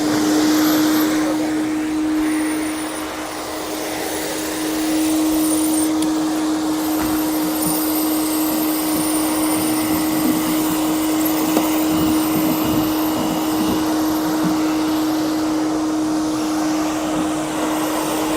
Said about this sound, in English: We're just going to vacuum this up.